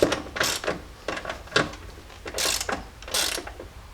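A hand ratchet snugs the rear bump stop bolts on a Jeep, giving a series of quick clicking bursts in short irregular strokes, close by and fairly quiet, with no talking.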